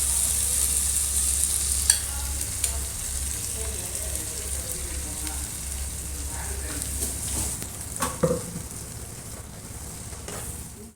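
A pan of pea curry for parotta bubbles and sizzles steadily, a soft continuous simmer with a few small clinks of a utensil.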